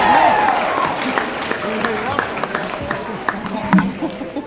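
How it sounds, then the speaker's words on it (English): A gym crowd at a high school girls' basketball game breaks into scattered clapping and cheers for the students, with voices and chatter mixed in, fairly close and moderately loud, tapering off over a few seconds. "Please give the students a round of applause."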